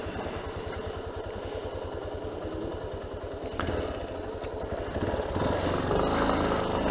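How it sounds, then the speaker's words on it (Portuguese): A Yamaha Tenere 250 motorcycle idles close by with a steady, rapid thumping engine pulse, growing slightly louder and rougher near the end; no talk is heard. "Botar a moto aqui na rampinha."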